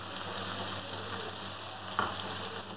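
Beef with ginger garlic paste fries on high flame in a continuous strong sizzle, a faint stir or scrape standing out once, and no voices.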